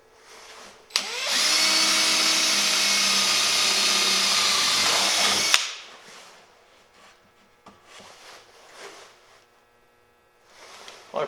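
A 1/4 inch spade bit bores into wood under a power drill, a loud continuous whir lasting about four and a half seconds before cutting off, followed by quieter scraping and handling noises.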